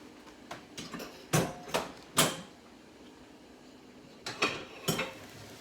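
A spoon knocks and scrapes against a mixing bowl as beaten egg is stirred into Irish soda bread mix, a handful of irregular clunks and clacks with quiet gaps between them.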